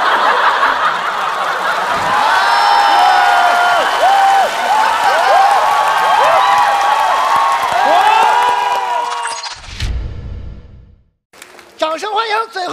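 A stand-up comedy crowd applauds and cheers for a long stretch, mixed with laughter and excited voices. The noise drops off abruptly near the end before a voice comes in.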